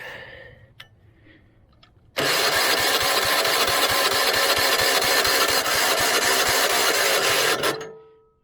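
A small pull-started engine on a homemade log splitter catches and roars loudly at a steady high idle for several seconds, then cuts off, after a few faint clicks and rattles.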